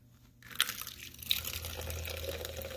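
A can of Lost and Found Glacier Burst energy drink is cracked open with a quick hiss, then liquid pours steadily into a glass with a soft, bubbling fill.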